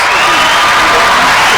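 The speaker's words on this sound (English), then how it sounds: "We want to give her a special round of applause to our guest, Mr. Buffalo Eats." Dense crowd applause for a guest, steady and loud throughout, with a voice mixed in.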